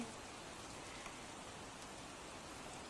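Light unseasonal drizzle falling steadily outdoors in Gujarat, a soft continuous patter of fine drops with no voices, even and low in level throughout.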